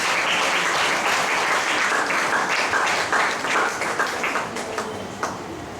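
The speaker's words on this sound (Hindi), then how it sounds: "ताली बजाकर प्रभु को धन्यवाद करो।" A church congregation claps their hands in thanks during a sermon, a dense, loud, continuous wash of applause that slowly thins near the end, with no speech over it.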